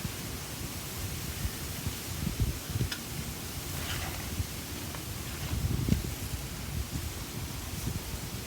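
Light wind blows outdoors on a patio, a steady soft rush with faint rustling and occasional gusts, no talk.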